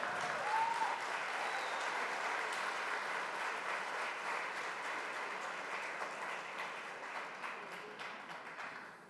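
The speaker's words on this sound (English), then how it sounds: "Sachin, that got applause" A conference audience at the THiNK 2012 event breaks into sustained applause, a dense wash of many hands clapping that stays steady and full for nine seconds before slowly easing off.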